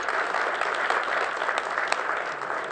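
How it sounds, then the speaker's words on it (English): A room full of people applauds award recipients at a Palo Alto Green business awards ceremony, a steady, dense clapping that carries on without a break and with no voices over it. "one last round of applause for all of the award recipients"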